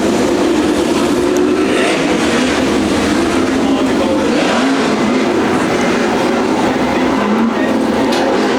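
360 sprint cars on the start lap of a state title heat at a dirt track, a steady broad engine roar with crowd and track noise throughout, fairly loud and continuous.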